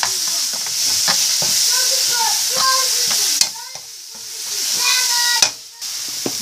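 Eggplant sizzles steadily in a frying pan, with repeated scraping and clinking stirring strokes close by and a couple of sharp knocks against the pan.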